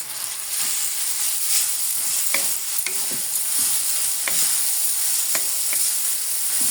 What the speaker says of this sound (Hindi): पपीता को हम लोग मीडियम आंच पे फ्राई कर लेंगे पहले 5 से 7 मिनट